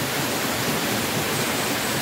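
A river rushes in a steady, broadband roar of moving water, close and constant with no breaks, like a strong current or small waterfall.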